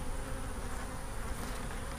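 A steady, close buzzing hum of honey bees swarming in and around a top bar hive, continuous and dense with no pauses or voices.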